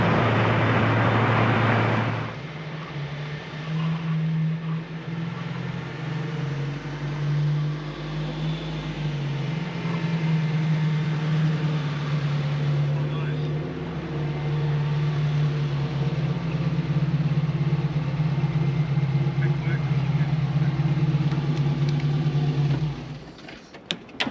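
A custom 1978 Datsun 620 rat rod drives along with a steady low engine drone and road rumble heard from inside the cab for about twenty seconds, and no one speaks.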